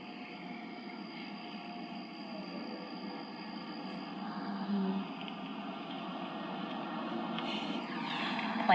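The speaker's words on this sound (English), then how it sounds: "Yeah, there was a plane" An airplane passes overhead as a faint, steady, distant rumbling drone that swells slightly midway, heard alone outdoors.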